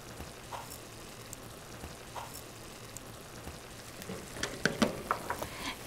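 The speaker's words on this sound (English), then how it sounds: "You can see it's sizzling a little bit." Faint, soft sizzling of whole cumin seeds in hot oil, steady and low at first, growing a little louder with scattered crackles toward the end.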